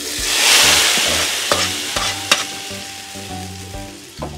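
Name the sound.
mustard seeds and curry leaves sizzling in coconut oil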